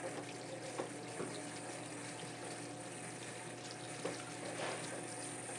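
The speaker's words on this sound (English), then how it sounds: "So we'll just take the peppers here under a little bit of cold water and the skin will remove very easily." Cold tap water runs steadily over roasted bell peppers in a kitchen sink, a quiet, even hiss broken by a few soft splashes and knocks.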